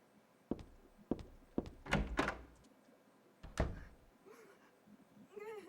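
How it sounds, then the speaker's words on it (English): In the Silent Hill 3 video game, a locked door rattles and thumps as it is tried, with several dull knocks and a cluster of heavier jolts in a quiet, eerie room, followed by faint ambient tones. "The door is shut tight, and I can't open it no matter how hard I try."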